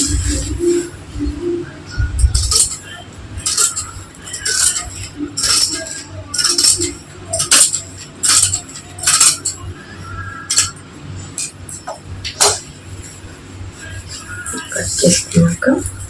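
Scissors snip through fabric as a frock is cut out, a short run of sharp, crisp clicks spaced unevenly, close by with a quiet room behind.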